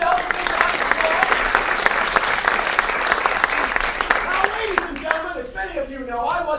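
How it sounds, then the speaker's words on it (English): Loud, sustained applause fills a comedy show audience with dense continuous clapping for most of the stretch, fading near the end as a voice begins speaking. "Give yourselves a big round of applause."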